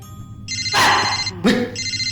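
A telephone rings with a bright electronic ringtone in short repeating bursts, close and clear, with a couple of louder thumps or noises mixed in.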